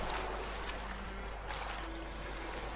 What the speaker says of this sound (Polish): zobaczcie, tu jest taki strumień